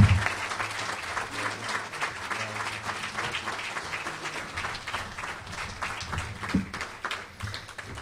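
Sustained applause from a seated audience at a Pace athletics Hall of Fame dinner and awards ceremony, dense steady clapping filling the room, rising again near the end.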